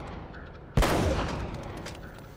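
Gunfire in Uncharted: Drake's Fortune, a single sharp, loud shot cracking out after a quiet start, then a rumbling echo that tails off slowly.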